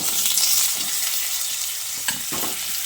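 Cut potatoes frying in hot mustard oil with black cumin, a steady loud sizzle throughout with a couple of brief stirring scrapes near the end.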